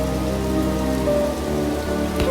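Steady rain pours down outdoors beside a rose apple tree at a home garden, a dense, even hiss close to the microphone with no voices.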